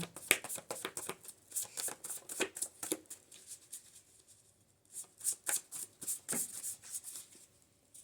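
A deck of cards is shuffled close by in quick riffling bursts, crisp flutters separated by short pauses, fairly quiet, with a brief lull in the middle before more shuffling resumes.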